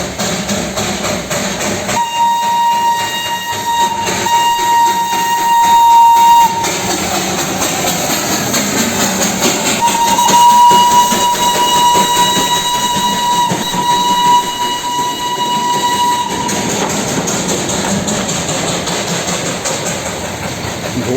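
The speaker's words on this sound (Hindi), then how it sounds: "सुबह की पहली टॉय ट्रेन स्टीम इंजन के जरिए निकल चुकी है अपने सफ़र पर।" The Darjeeling steam toy train pulls away with a long, steady whistle blown twice. Loud mechanical chugging and rolling rumble continue throughout, with no voices.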